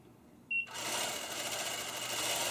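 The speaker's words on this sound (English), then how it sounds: "I just stitch it with a regular stitch" Longarm quilting machine on a frame stitching a pantograph with a regular stitch, a sharp beep or click and then a steady motor whir that starts abruptly and runs on evenly, close and fairly loud, no talk.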